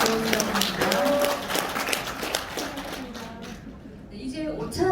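Audience clapping after a lecture, close and brisk at first, then thinning and fading toward the end, with some speech mixed in.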